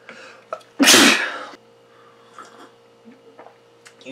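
A single loud, sharp sneeze bursts out near the mic, followed by quiet rustling and a few soft clicks.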